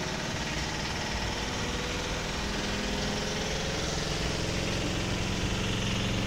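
Manual washing machine spins a load of laundry, giving a steady loud motor whir and rumble that holds evenly without a break or voices.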